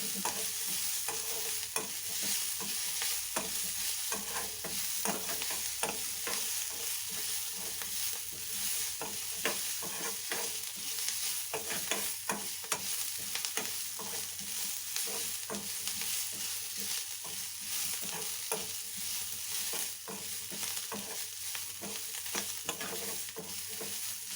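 Ingredients for a potato and chickpea sambar frying in a pan give off a continuous, fairly quiet sizzle, broken by frequent light scrapes and taps of a stirring spoon.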